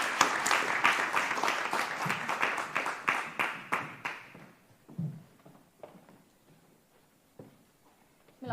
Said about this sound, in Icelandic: Já, endilega, gefum gott klapp.